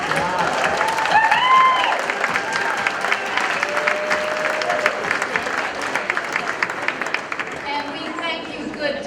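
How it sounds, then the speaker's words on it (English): Audience at a Democratic summit welcome reception in Oregon applauding and cheering for candidates and elected officials, sustained clapping with whoops and crowd chatter, fading toward the end. "please raise your hand now so we can give them a good cheer"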